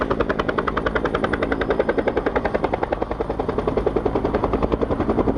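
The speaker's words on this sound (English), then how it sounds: "it was blown up by the prop wash of the helicopter and now goes into the lake" A helicopter hovers low over a lake beside Leisure World, dipping a water bucket while fighting the 1994 Laguna Beach fire. Its rotor chop is loud, fast and steady, close by and uninterrupted.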